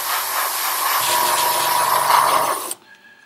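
Aerosol primer hisses steadily in a light dusting over a plastic Hasegawa Phantom II egg plane model kit, a continuous broadband spray lasting a few seconds before cutting off abruptly.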